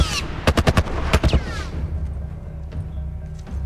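Enemy soldiers firing in The Last of Us Part II, a close, loud burst of rapid gunshots followed by a few more cracks, then scattered quieter distant shots over low ambient background.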